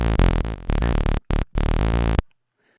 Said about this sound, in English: So now I'm going to quickly add a little bit of white noise.